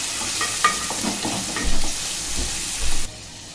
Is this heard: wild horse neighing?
no